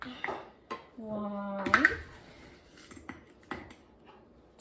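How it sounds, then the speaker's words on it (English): A half-cup measuring cup scooping sugar from a container for a pineapple cake, with clinking metal and utensil knocks and a brief ringing tone, close by, while someone speaks a word. "We have half a cup here, so we have to do 4 scoops of that."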